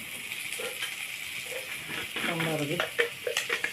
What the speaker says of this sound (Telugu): ఫ్రై చేసుకొని ఇలా వేగాలి